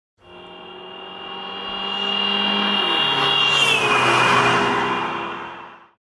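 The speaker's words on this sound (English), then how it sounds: "Very similar to a Doppler effect, which is when a car drives by." A car passes by alone, its engine tone swelling louder and then bending downward in pitch as it goes past, fading out after about six seconds.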